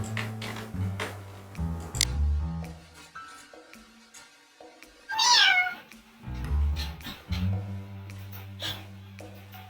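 A voice, auto-tuned to sound like a cat, imitates one drawn-out meow that rises and falls, set against steady low background tones and a few soft taps.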